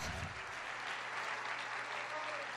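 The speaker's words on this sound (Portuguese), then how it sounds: "Aplauda o Senhor" Church congregation applauding during a Portuguese-language sermon, a dense, steady wash of clapping filling the whole moment, with a faint low hum beneath.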